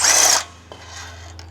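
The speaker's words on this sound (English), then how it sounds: "Using an electric impact wrench with universal joint and a 13-millimeter triple square socket, remove the wheel bearing retaining bolts." An electric impact wrench with a universal joint and 13 mm triple-square socket spins out a wheel bearing retaining bolt on a Jeep Wrangler JK, a loud whirring burst of under half a second followed by quieter handling noises.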